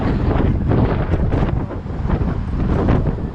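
Strong wind buffets the microphone near the Golden Gate in San Francisco, a loud, continuous gusty roar with rumbling surges and no speech.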